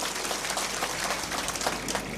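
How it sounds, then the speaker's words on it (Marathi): Crowd applause at a political speech gathering, a dense, steady wash of clapping from a large audience, sustained and evenly loud throughout the short stretch. "टाळ्या वाजून या ठिकाणी स्वागत केलं पाहिजे"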